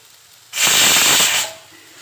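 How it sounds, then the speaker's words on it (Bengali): A pressure cooker of dal on a home kitchen stove lets out one loud, close hiss of steam lasting about a second, starting abruptly and then fading back to quiet. "আর এদিকে প্রেসারে ডাল বসিয়ে দিয়েছি।"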